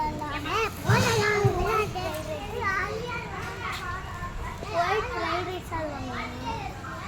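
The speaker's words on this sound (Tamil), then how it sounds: "இரு, குழந்தை விளையாண்டுக்கிட்டு இருக்கு." Children play noisily at a birthday celebration held at a trust, their excited voices and shouts carrying close and continuous, with some chatter mixed in.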